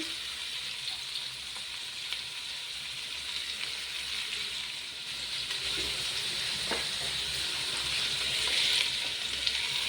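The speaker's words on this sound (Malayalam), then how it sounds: "കുറച്ച് കരിവേപ്പിലയും സവാളയും കൂടെയാണ് ഫസ്റ്റ് ഇട്ട് കൊടുക്കുന്നത്" Sliced onions and curry leaves fry in hot oil in a pan as a base for fish biryani, giving a constant close sizzle that swells slightly louder toward the end.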